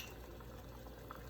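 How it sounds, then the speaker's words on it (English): Water comes to a boil for basic coffee, giving a steady, close bubbling hiss that runs without break and with no talk over it. "once the water is boiling, just dump it in there"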